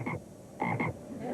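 A frog in a TV sitcom scene croaks three times in quick, uneven succession, clear and close with no talk over it.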